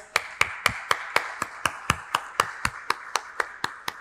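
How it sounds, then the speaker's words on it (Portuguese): Steady applause at a documentary launch event about the history of Iporá, heard as a regular run of sharp, evenly spaced claps, fairly close and loud, with no other sound around them. "Peço uma salva de palmas."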